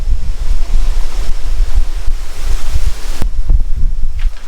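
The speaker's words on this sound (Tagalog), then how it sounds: "Ganito yung panahon, mahangin." Strong, constant wind roars across a foggy, cold Sierra Madre mountain campsite, loud buffeting gusts hitting the microphone without pause, with a sharp knock near the end.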